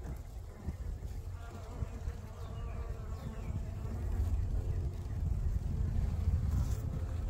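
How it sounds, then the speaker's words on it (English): A constant swarm of honey bees hums nearby at a Layens hive, the buzzing thickening slightly toward the end, with soft wind noise underneath. "the whole wall is just covered with bees"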